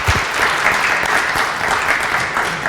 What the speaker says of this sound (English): Can I please ask for a big round of applause for Andrew Vild from Project